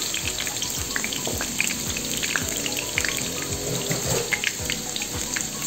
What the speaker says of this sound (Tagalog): Ngayon po ay isisir muna natin yung ating mga gulay.